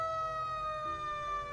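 Emergency-vehicle siren from the 1986 film Blue Velvet, a steady wailing tone held at moderate level for a brief moment, with no voices over it.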